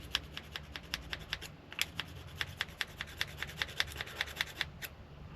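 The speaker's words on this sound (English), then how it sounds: "I've got like a scissor sharpener here." A scissor sharpener rubbed along a cut edge during hobby RC car work, giving a quick run of rhythmic rasping strokes, close and fairly quiet, with no talking.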